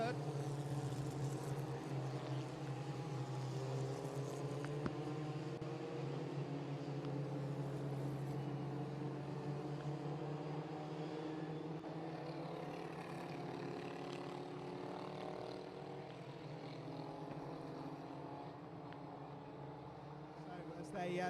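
Formula Ford race cars run in the wet at Oulton Park, a steady engine drone holding over most of the stretch with rising and falling tones as the cars pass, and commentary talking over it throughout.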